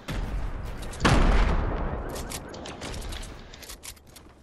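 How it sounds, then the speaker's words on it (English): A grenade explodes in the Fortnite video game, one sharp loud blast followed by a decaying rumble and scattered crackles. "Throwing nades."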